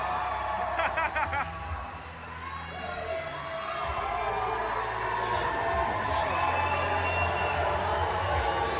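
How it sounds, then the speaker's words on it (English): A live comedy podcast audience in Cancún cheers and applauds for Andreas as he comes on stage, a sustained crowd roar with whoops and laughter swelling in the second half. "Andreas, give him a round of applause."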